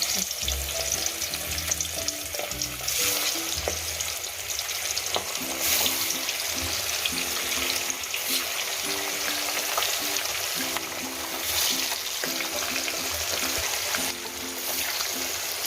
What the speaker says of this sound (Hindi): ये भी मछली तलन लगी हैं। सरसों का तेल गरम किया करे।